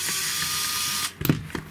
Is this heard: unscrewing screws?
yes